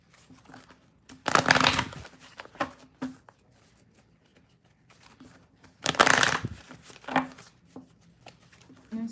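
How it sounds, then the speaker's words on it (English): Tarot cards are riffled in two loud, crisp bursts several seconds apart, with soft handling taps and card flicks in between, close up in a quiet room. "Let me shuffle them really good here."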